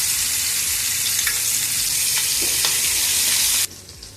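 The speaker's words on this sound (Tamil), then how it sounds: "எண்ணெய் காஞ்சிச்சு ஃப்ரெண்ட்ஸ், இந்த முட்டையை தொட்டு போட்டுக்கலாம்." Eggs frying in hot oil on a dosa griddle for an egg masala fry, a loud, steady broadband sizzle that runs on continuously alone, then drops off sharply near the end.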